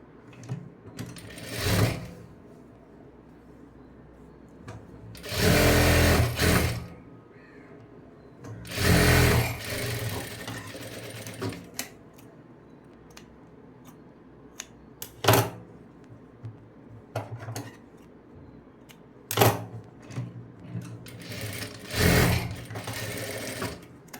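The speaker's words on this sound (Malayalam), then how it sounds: "തയ്ച്ചു കൊടുക്കുക." Sewing machine stitching fabric in repeated loud bursts of rapid whirring, each a second or two long, separated by quieter pauses with faint handling noises.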